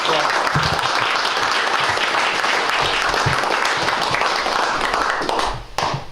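An audience at a historical society gathering gives a sustained round of loud, dense applause. It fades and breaks off near the end.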